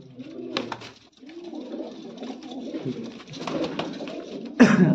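Loft pigeons of a top breed coo in overlapping, rolling calls, close by, with a brief sharp rustle or flap near the end and no speech.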